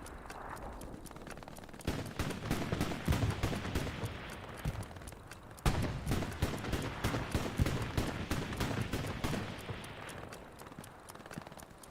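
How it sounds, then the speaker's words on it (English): Anti-tank rockets hitting tanks in the video game Hell Let Loose, dense crackling gunfire and heavy blasts in rapid overlapping bursts, loud and continuous for several seconds. "Look at all the AT rockets going into these tanks right now"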